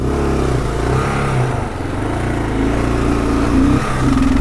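A 2022 Kawasaki KLR650 ABS enduro motorcycle ridden off-road over sandy, uneven dirt gives a close, steady single-cylinder engine drone with slight rises and dips in revs.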